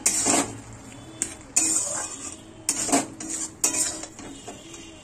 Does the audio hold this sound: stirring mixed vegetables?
yes